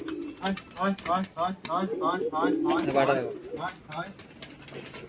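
A large pigeon coos in repeated throaty phrases close by, with a speaking voice over and between the calls.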